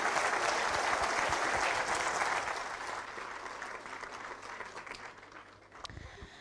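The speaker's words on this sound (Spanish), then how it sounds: "Un fuerte aplauso, por favor." Sustained audience applause at a university's 2023 public accountability ceremony, loud and dense at first, then thinning gradually toward the end with a low steady hum beneath.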